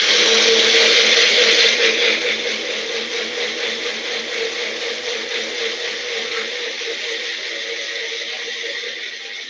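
Cabbage being pureed in a blender, a loud, steady, close motor whir with a rapid pulsing chop that eases slightly in loudness as it runs, with no voices.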